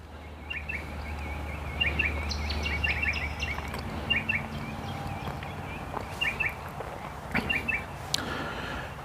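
A bird sings repeated short chirping calls outdoors beside the water, the calls coming in small bursts over steady wind and rustling leaves.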